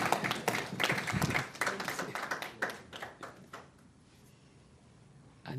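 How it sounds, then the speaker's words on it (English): Audience clapping at a fund launch ceremony in a hotel venue, a burst of applause with sharp hand claps that thins out and fades to near quiet, then a brief return at the end. "please clap for her too as she signs"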